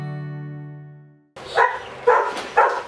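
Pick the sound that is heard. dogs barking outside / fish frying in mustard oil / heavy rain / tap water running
dogs barking outside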